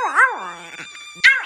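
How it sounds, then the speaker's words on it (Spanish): A puppy gives a high, wavering yelp, then a short quieter cry after a brief pause. Both are close and clear, with nothing else heard. "No puede ser, es un perrito."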